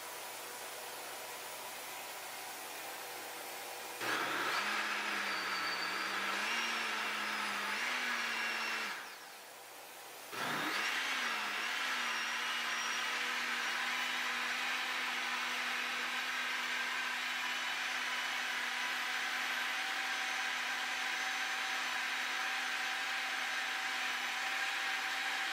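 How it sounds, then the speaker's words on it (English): A blender pulses onion, pepper, tomato and Scotch bonnet for Nigerian efo riro, its motor whirring steadily at moderate volume, briefly dropping off near the middle before resuming in a long continuous run. "put all of the onion, pepper, tomato, and Scotch bonnet into a blender, and you're going to pulse it until everything is thoroughly blended"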